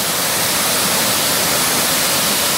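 Waterfall cascading at Saut du Gendarme in Font-Saint-Denis, a dense, constant roar of rushing water that fills the air close by and stays steady throughout with no voices.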